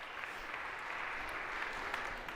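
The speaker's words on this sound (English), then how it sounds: "A round of applause for being so brave." Audience applause for a volunteer at a Harvard CS50 lecture, a steady wash of many hands clapping from a crowd, moderately distant and sustained throughout.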